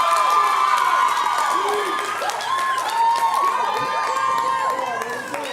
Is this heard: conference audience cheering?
yes